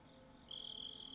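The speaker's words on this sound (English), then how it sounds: "There's the crickets." Crickets chirp in a steady, continuous high trill that starts partway through and holds to the end, fairly quiet over a faint background hiss.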